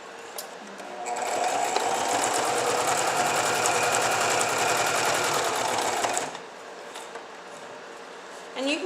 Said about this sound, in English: And you can go slower if you're not as good at sewing yet, if you just are learning.